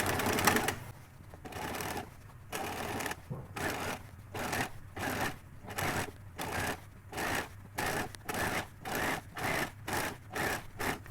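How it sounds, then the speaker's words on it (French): A sewing machine stitches a felt hat with an even, rhythmic mechanical pulse that repeats steadily throughout at close range. "on va aider la machine à coudre"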